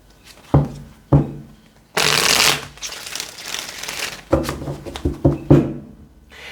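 Close-up tarot card shuffling: a few sharp riffling taps, a longer papery shuffle burst, then more quick flicks and slaps of cards, no talking.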